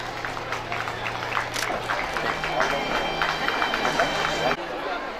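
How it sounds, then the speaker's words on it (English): Applause from an audience at a primary-section school annual gathering, a dense, steady patter of many hands that continues for about four and a half seconds and then stops abruptly, with faint crowd murmur underneath. "Please appreciate this achievement with a big round of applause."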